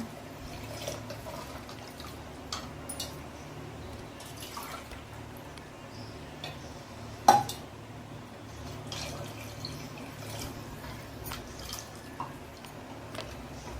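Water trickles and drips in small splashes into a clay pot of fish curry, with scattered clicks and one sharper knock near the middle; no voices.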